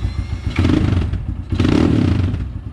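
A cold Honda CRF 230F motorcycle engine revs twice up close, loud throaty surges rising and falling with a rumbling idle underneath.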